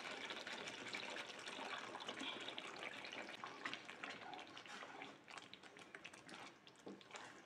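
Tamarind water pours into a pan of sambal tumis bilis with petai, a steady faint splashing and trickling liquid stream lasting several seconds before tapering off.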